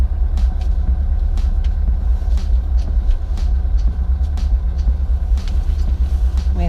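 TeeCee, a classic car, driving home on the road, with a loud, continuous low engine rumble and steady road noise plus small knocks and rattles inside the cabin.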